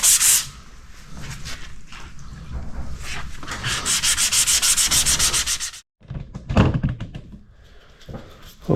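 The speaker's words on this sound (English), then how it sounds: "I've got my flexible sanding pad. This particular one says it's 400 to 320, so we're going to start with that." Flexible 320–400 grit sanding pad rubbed over a plastic 2003 Yamaha YZ450F motorcycle fuel tank, giving steady close scratchy strokes that break off briefly before a final few rubs.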